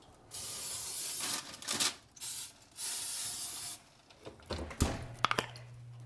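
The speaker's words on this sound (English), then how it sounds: "I'm going to spray them a little bit on the top with some of this spray" Several short bursts of cooking oil spray hiss up close onto food, separated by brief pauses, followed by a few light clicks and handling sounds.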